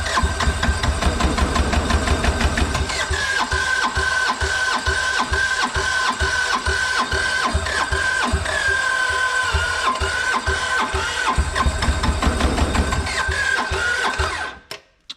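A new engine being cranked over and over without catching properly because fuel is not getting through, a steady loud mechanical churn with rhythmic pulsing that runs almost the whole time and then cuts out abruptly at the end.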